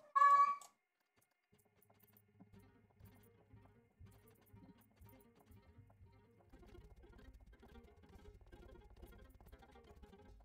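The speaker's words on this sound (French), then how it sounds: "si vous entendez mes chats miauler, n'inquiétez pas" A cat gives a short, clear meow at the very start, close by, followed by quiet game background sounds of a Planet Coaster theme park with low rumbling and faint clatter.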